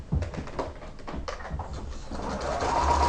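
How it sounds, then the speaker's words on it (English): A sewing machine stitches a quarter-inch seam on a quilt block, its rapid mechanical stitching running steadily and close up, growing slightly louder and denser toward the end. "we'll just put this under our machine. We sew a 1/4 inch seam."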